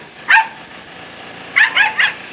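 A family's pet dog barks once, then again in a quick burst of three sharp barks after a pause, fairly close and clear over a quiet background.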